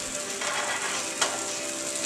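Fish sears in a hot pan with a steady, close sizzle and faint crackle, one short sharper spurt of spitting partway through, and no talking.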